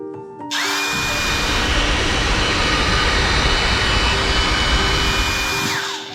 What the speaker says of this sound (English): pump helps me blow up my sleeping pad without getting too much moisture in it